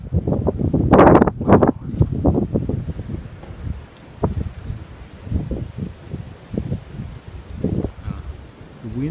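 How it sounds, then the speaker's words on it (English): Wind gusting outdoors during a blizzard snow cleanup, heavy low rumbling buffets hitting the microphone in loud uneven bursts that rise and fall throughout. "The wind is picking up."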